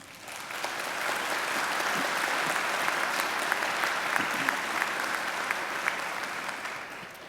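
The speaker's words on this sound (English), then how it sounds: "I think Elizabeth deserves another great round of applause." Steady applause from a large audience at a university graduation ceremony, many hands clapping continuously, swelling slightly and holding at an even level before easing off.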